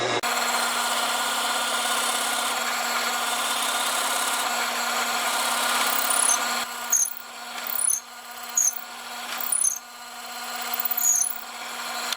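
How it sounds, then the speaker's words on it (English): A power drill whirs steadily into a wooden pen blank for several seconds, then cuts off and returns in a series of short, separate bursts. "We can drill our next one."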